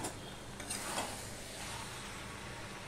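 Vegetable and prawn curry cooking in a pan over low to medium heat, giving a steady, soft sizzle with a few light stirring scrapes near the start, and no speech.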